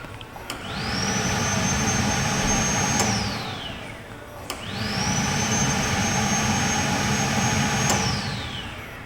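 Car secondary air pump switched on during an active test, spinning up to a steady high-pitched electric whine, holding, then winding down, repeated twice in close succession.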